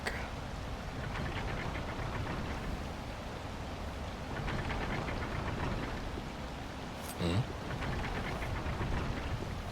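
Endless rain in the Wild Hearts video game: a steady, dense hiss of rainfall that continues throughout, with one brief louder knock or thump partway through.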